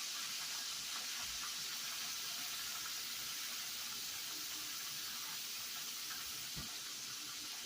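Steady hissing rush of running water from a kitchen tap, continuous and even, with a faint clink near the end.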